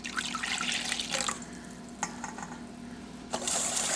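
One cup of 100% pineapple juice pours into a steak fajita marinade in a home kitchen: a close, splashy stream of liquid with a few clinks, fading briefly and then picking up again.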